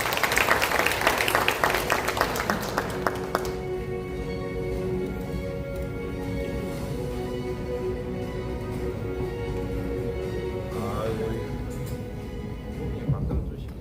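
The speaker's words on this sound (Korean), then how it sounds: "박수로 부탁드리겠습니다." Audience at a regional development seminar in Gumi applauds as the mayor is invited to give a congratulatory address, a burst of clapping over the first few seconds that fades into a sustained tonal hum from the room's sound system.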